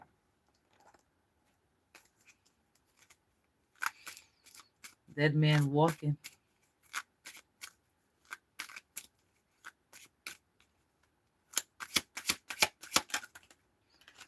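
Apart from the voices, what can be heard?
shuffling tarot cards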